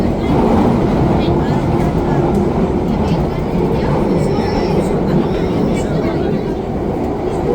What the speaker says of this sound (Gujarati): અમે ટ્રેનમાં બેસી ગયા છે